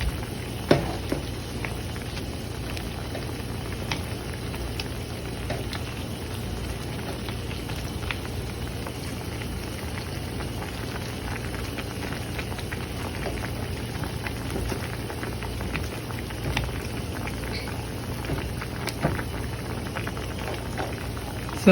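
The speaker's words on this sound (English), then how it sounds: "we got our Brussels sprouts up to a boil" Lots of Brussels sprouts boil in a pan, giving a constant soft bubbling and crackling hiss with scattered small pops, steady and fairly quiet.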